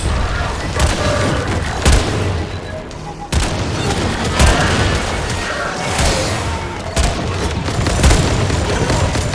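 Rapid, continuous gunfire from the video game Warframe, with repeated sharp bursts and booms layered over a dense, loud soundscape, alongside faint voices.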